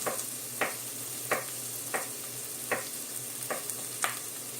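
Steady low sizzling of garlic frying in oil, punctuated about every half-second by a brief scraping stir, with no voices.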